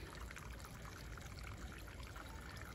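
Water in a stream at Abbotsbury Subtropical Garden in the U.K., where colocasias grow, flowing in a continuous trickling, burbling wash, steady and fairly soft with no talk.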